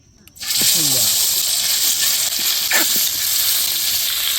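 Washed, salted chicken pieces drop into hot oil in a pan on the stove and burst into a loud, continuous sizzle that holds steady, with faint chirping and scraping underneath.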